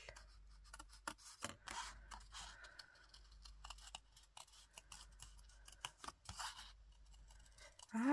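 Scissors snip and rub through paper while cutting out a circle in a quiet craft setting, with short irregular cuts and rustling handling noise.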